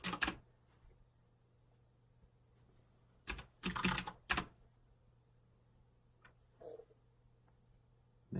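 A password being entered on a computer keyboard: short bursts of crisp key clicks, one at the start and a denser cluster midway, with a few isolated taps over a faint steady hum.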